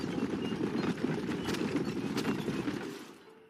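Horse hooves clip-clop steadily in the Red Dead Redemption video game, a continuous rhythmic patter at moderate loudness that fades out near the end.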